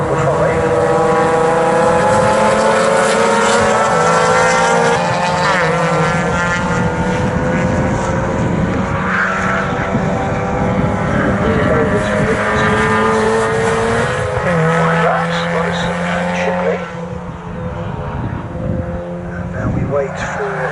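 Mark III Mazda MX5 race cars roar past on a circuit during a championship race, a loud continuous engine drone with shifting pitch, while a commentator talks over it throughout.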